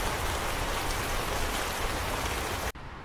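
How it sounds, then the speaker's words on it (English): A rainstorm loop sample from a melodic house music pack delivers a heavy, continuous wash of rain for about three seconds, then stops abruptly and leaves a faint tail. "Rainstorm."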